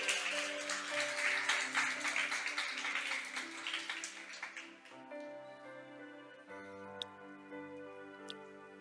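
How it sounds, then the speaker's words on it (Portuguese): A church congregation applauds in a dense patter of clapping that gradually thins and fades while sustained organ or keyboard chords continue underneath, with a couple of sharp clicks near the end. "Você pode aplaudir o Senhor?"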